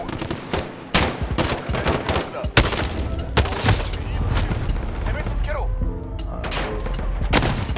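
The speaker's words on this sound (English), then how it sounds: "I'm gonna shoot these bots, multiple bots, on high dead zone and shoot them on low dead zone" Video game gunfire aimed at bots fills the clip as dense rapid bursts of close shots with sharp cracks and mechanical clatter. The firing runs almost continuously, and a player's voice talks faintly beneath it.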